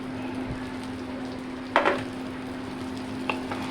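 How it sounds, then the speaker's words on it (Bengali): Rice for basanti pulao, with cashews, is stirred in a pan, a low steady fry hiss with a few quick scraping strokes of the spatula, close up and without talk. "চালটা দিয়ে নাড়াচড়া করে নেব"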